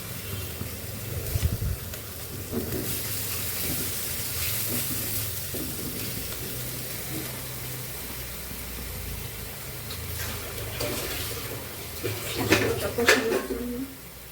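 Water is added to a hot pan of spicy pointed gourd curry, giving a soft sizzling hiss with occasional pan clatter, and a brief louder burst of steam and scraping near the end.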